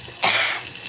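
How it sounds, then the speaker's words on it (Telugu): A single short, harsh cough bursts out in a home kitchen while rasam is being cooked with dry-roasted spice powders and the exhaust fan is off, standing alone against quiet room tone. "ఎగ్జాస్ట్ ఫ్యాన్ వేయలేదు అందుకే దగ్గు వస్తుంది"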